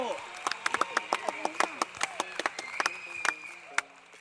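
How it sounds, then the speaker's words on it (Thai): A few people clap sparsely in a quiet outdoor setting at Bueng Boraphet, giving sharp, separate hand claps at an uneven pace, with faint voices and tonal calls underneath. "ปรบมือครับทุกคน"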